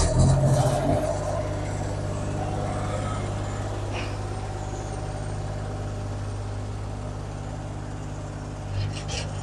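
A TP176 tracked wood chipper's engine runs steadily at a loud, close idle with a faint rise in revs, a strong low hum persisting throughout and no talking.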